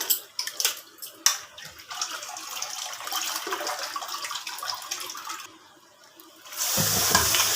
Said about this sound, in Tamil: நல்லா 5 அலசு 6 அலசு வச்சு இப்படி கழுவுங்க.